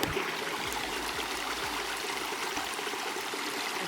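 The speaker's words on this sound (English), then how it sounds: "Oh, there's a nice little water source." A small stream of water trickles and gurgles steadily beside a hiking trail on the Yahoo Falls Loop in Whitley County, a close, continuous babbling flow heard alone without any voices.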